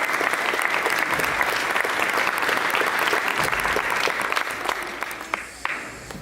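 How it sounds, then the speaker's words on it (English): Audience applause for performers at an All Saints show of Portland, dense and steady clapping from a crowd filling the room, tapering off toward the end. "So give them a round of applause."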